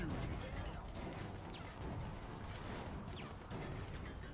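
Gunfire in the video game Prototype 2: a continuous wash of rattling shots and impacts with sharp cracks scattered through it, loud and steady throughout, with a few whistling streaks overhead.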